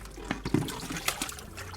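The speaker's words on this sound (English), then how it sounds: "I'm just emptying the water back into the pool" Water from a cold plunge is poured back into a pool in a few uneven splashes and gurgles, close and moderately loud.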